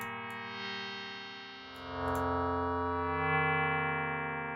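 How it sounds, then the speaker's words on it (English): A sustained synth tone runs through a reverb effect from a Max 9 ABL DSP device, a steady, buzzy, distorted drone whose tail swells and lingers with a washy, echoing sheen, with no voices. "I feel like we can do better than just bog standard reverb though."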